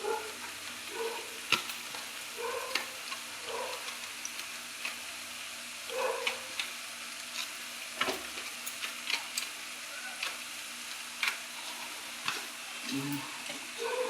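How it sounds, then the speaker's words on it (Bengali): Mutton with Kashmiri chilli powder and meat masala sizzles in a pan for kasha, soft continuous frying crackle broken by repeated scraping stirs and light ticks of a spoon against the pot. "এগুলো দিয়ে এখন একটু ভাজা ভাজা করবো।"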